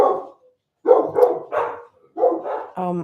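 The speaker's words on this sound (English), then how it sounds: "My dogs are guard dogs, guys. Like, they don't play around." Several loud, close barks from guard dogs come in short bursts separated by brief pauses, with a deeper, drawn-out bark or growl at the end.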